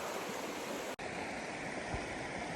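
A waterfall in Algonquin Park roars in a steady, unbroken wash, with a brief cut in the sound partway through.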